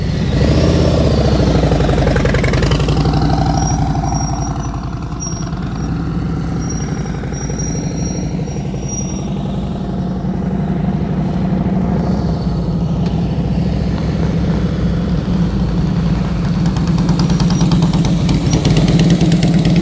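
A motorcycle engine runs continuously through slow-speed riding practice, a steady close rumble that shifts slightly in pitch as the throttle changes, with no talking.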